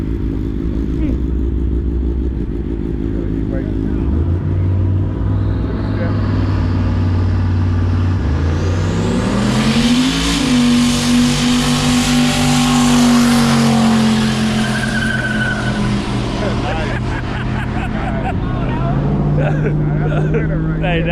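A car accelerating hard away from a Cars and Coffee meet, its loud engine note rising through the gears with a tire squeal in the middle, while people talk and cheer nearby.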